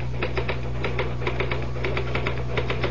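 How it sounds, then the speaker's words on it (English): Typewriter keys clatter in a rapid, uneven run of crisp mechanical strikes, close and steady for the whole stretch with no voices. "All the time I was typing, I felt myself pulling back, trying to make my fingers stop."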